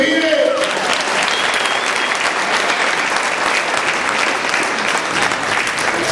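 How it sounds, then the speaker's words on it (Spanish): A church congregation claps hands in loud, dense, continuous applause that fills the room evenly from start to finish, with a brief voice at the very beginning. "¡Dale palmas al que vive!"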